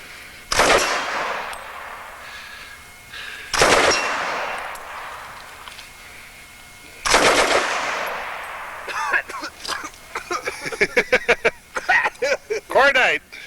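A Bren machine gun fired outdoors: three loud single reports spaced a few seconds apart, then a quick run of sharp shots with metallic ringing echoes, with people talking in the background.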